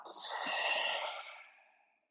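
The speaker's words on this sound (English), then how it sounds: "Reset and open mouth, exhale out." A single open-mouth exhale during yoga breathing, a breathy sigh-like rush of air that starts strong and fades out over about two seconds, close and alone.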